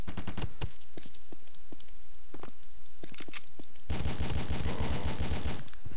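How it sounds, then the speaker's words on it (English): Security guards fire on the player in a Fifth Element video game, rapid automatic gunfire crackling in bursts, with a long dense volley near the end, loud and close. "I got a security guard shooting me through a little fence."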